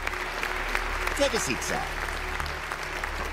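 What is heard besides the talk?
audience applause in cartoon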